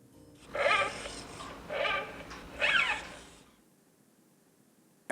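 The older voice of the Paro robot seal, a synthetic cry modeled on cats and dogs, gives three rising, meow-like calls in a row, each fairly loud, before fading into near silence.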